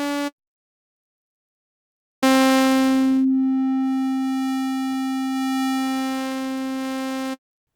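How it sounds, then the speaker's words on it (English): The IMPERFECT synth VST by WA Production plays pure oscillator tones: a brief clean sine note, a gap of silence, then a sustained triangle-style tone rich in harmonics that holds steadily for about five seconds before cutting off. "The main oscillators can generate 4 different wave shapes: a sine, a triangle, a square wave and a sawtooth."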